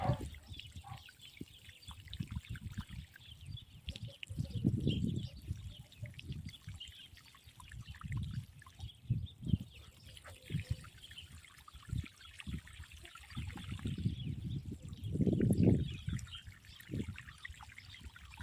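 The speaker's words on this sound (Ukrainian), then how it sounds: "Ну і, звичайно, зверху гарно поливаю." Garden bed of early and Chinese cabbage watered from above, irregular bursts of trickling, pouring water that swell and fade, outdoors with faint birdsong in the background and no talking.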